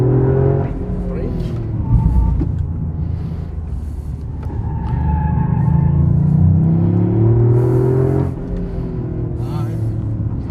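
Toyota Yaris GR three-cylinder engine pulling hard on a track, a loud continuous rumble with rising and falling revs through corners, close and steady, with someone talking over it.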